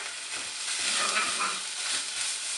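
Green chili and turmeric frying in a pan while being stirred, giving a dense, close sizzle with soft scraping motions running through it.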